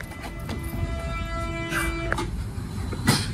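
An RER B commuter train at La Hacquinière station in Île-de-France gives off a sustained tonal motor whine with rumbling rail noise and a few sharp clanks, close by and steady.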